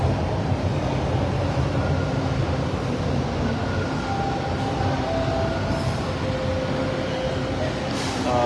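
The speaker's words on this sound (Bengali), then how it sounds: "দুদিকে দুটা ট্রেন আছে" Passenger trains move at a busy railway station, producing a steady, dense rumble that holds throughout without break, with faint screeches and tones on top.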